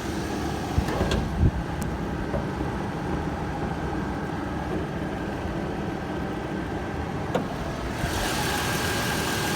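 A 2011 Toyota Tacoma V6 pickup engine idles steadily and evenly throughout, with a low, constant rumble and a couple of faint knocks or clicks near the start.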